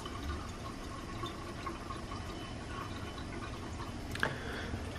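Water dispenses from a Kangen alkaline water machine in a home kitchen, a faint steady trickle filling a container, with a brief clink near the end and no voices.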